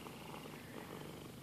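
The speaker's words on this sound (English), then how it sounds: "that's a loud purr." A cat purrs loudly and close up, a steady continuous rumbling throughout with no talking over it.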